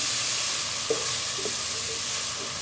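Spices with cumin powder frying in a pan for a village-style potato and eggplant curry, a steady soft sizzle with a few faint stirring scrapes, close by and without talk.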